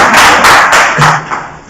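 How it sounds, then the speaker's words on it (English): Audience applause in a live event hall, a short burst of several claps over about a second and a half, fairly loud and close, fading toward the end. "I will appreciate all the gentlemen in the house to clap for that beautiful lady for that."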